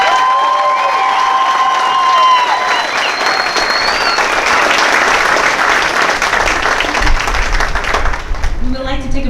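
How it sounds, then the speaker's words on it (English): Family and guests at a Marine Corps ceremony for Golf and Oscar companies applaud and cheer their new Marines, loud dense clapping with whistles and shouts rising over it, a voice breaking in near the end. "How about a round of applause for your new Marines?"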